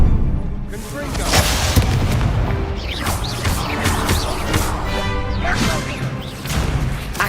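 Confringo blasting spell explosions during combat in the video game Hogwarts Legacy: loud, dense rumbling blasts and crashes that run on continuously, layered with the shouting of spell names.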